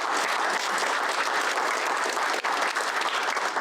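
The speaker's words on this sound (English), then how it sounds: "round of applause" A room full of people at a city council meeting claps in a steady, dense round of applause that runs unbroken and fairly close, with no talk over it.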